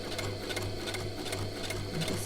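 A sewing machine steadily stitches a fabric face mask, its continuous motor hum and needle clatter close and even throughout with no talk.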